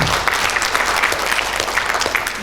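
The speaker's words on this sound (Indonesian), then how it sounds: "Tepuk tangan untuk dia" Audience applause at a national retreat, a steady, dense burst of many hands clapping that carries evenly for a couple of seconds with no talk over it.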